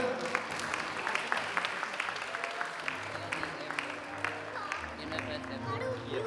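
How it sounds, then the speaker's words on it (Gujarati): Applause for a children's performance at a Paryushan Maha Parva gathering, a moderate crowd clapping in an uneven patter with voices murmuring underneath. "પ્લીઝ આ બાળકોના પરફોર્મન્સને તાળીઓથી કર."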